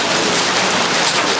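Heavy rain mixed with hail pours down in Novocherkassk, a loud, dense, continuous drumming and hiss with no pause and no talk.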